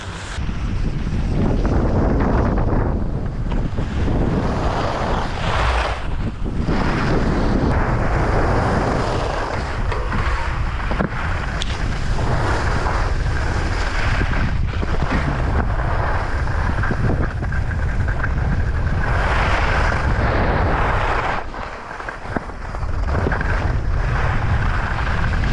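Strong, steady wind gusts roar across a snowy ski slope during light snowfall, loud and continuous throughout, with no voices.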